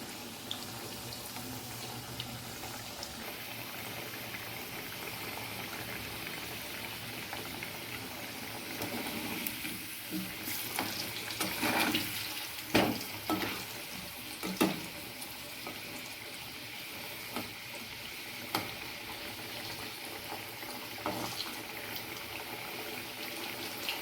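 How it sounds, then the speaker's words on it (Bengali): Potato pieces fry in hot oil with a little turmeric for a Bengali-style mutton curry, giving a steady soft sizzle with a few sharper pops and clatters toward the middle and no voices. "আমি আলু ভাজাটাও বসিয়ে দিয়েছি আলুটা একটু সামান্য হলুদ দিয়ে ভেজে নেবো"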